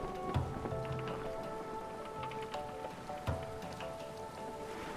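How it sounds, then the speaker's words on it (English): Steady, dense rain shower in the survival video game Stranded Deep, a constant hiss of drops with a few louder splashes, heard alone without talk. "I think it's just a mild rain shower though."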